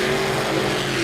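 A monster truck engine revs hard as the truck pulls out at a St. Louis arena event, a loud, steady roar that fills the short moment with no talk over it.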